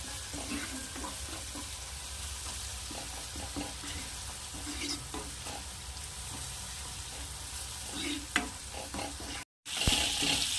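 Chana dal stirred with turmeric and asafoetida in a hot pan, a soft steady sizzle with light scraping stirs close by, briefly cutting out near the end before the frying resumes; no talking.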